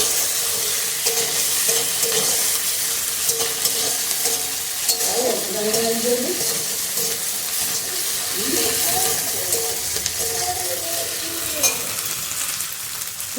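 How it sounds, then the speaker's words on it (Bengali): Ginger and garlic frying in a pan, a steady close sizzle with stirring scrapes throughout, and a voice speaking briefly over it. "ভালো করে আদা রসুনটা ভেজে নেব"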